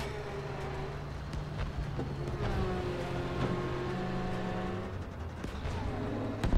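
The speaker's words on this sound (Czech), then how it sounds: "Tyhle, ta věž zní ale hrozně, když se otáčí." Tank turret rotating in the video game Battlefield V, a continuous mechanical whine with shifting pitch over steady engine rumble and game noise, fairly loud throughout.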